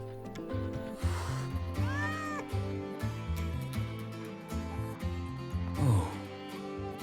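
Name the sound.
frightened cat meowing in Wuthering Waves video game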